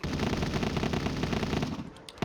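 A video-game minigun unleashes a loud, continuous rapid-fire roar of rattling shots lasting nearly two seconds before it cuts off abruptly.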